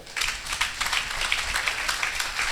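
A church congregation applauding and acclaiming God, dense sustained clapping from many hands, steady and fairly loud after a brief quiet start.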